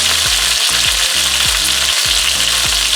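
Oxtail browns in a pot for a Jamaican oxtail stew, giving a loud, continuous sizzle with regular stirring scrapes, and no voices.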